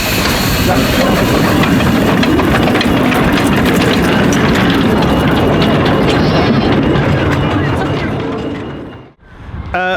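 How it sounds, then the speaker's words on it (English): A miniature-gauge steam train chugs and rattles loudly and continuously, with hissing and clattering wheels, before the sound briefly cuts out near the end. "I actually got to drive a miniature gauge steam train."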